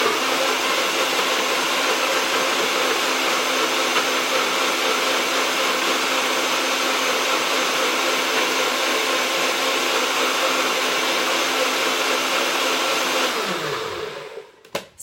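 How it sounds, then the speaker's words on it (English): A NutriBullet blender whirs loudly and steadily for about thirteen seconds, blending feijoa and spinach into a smoothie, then winds down and stops. "I use my NutriBot all the time"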